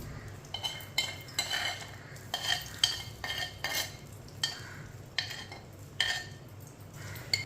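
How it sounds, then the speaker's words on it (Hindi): Soaked semolina being stirred into warm ghee in a pan for sooji laddu: a series of scraping, clinking spoon strokes against metal in an irregular rhythm, close and fairly quiet, with no one talking. "अच्छी तरह मिक्स कर लेंगे।"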